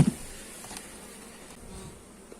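Honey bees buzz as a steady, soft hum at an open hive of twelve frames during an apiary inspection, close and continuous with no talking.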